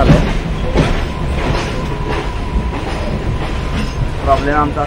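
A train rumbles and clatters steadily at CSMT station in Mumbai, wheels clacking over rails with a faint squeal, with voices talking nearby.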